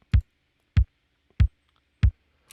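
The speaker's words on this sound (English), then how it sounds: "I've just found some cool 707 kick drum samples" Roland TR-707 kick drum playing a four-on-the-floor pattern: four evenly spaced, punchy low thumps about 0.6 seconds apart, dry and isolated against silence.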